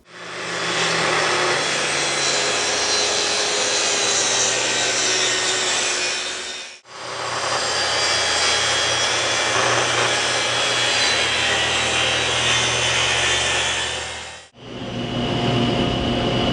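A power saw cuts wood for the sides of a vanity cabinet's middle divider in three long, steady, loud passes, each a continuous whining rasp separated by short breaks, close, with no talk.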